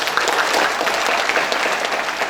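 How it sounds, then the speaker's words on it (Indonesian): A keynote audience at DevFest Bogor 2023 breaks into applause, a thick, even wash of many hands clapping that holds steady throughout. "Boleh dong kasih tepuk tangan buat teman-teman semua."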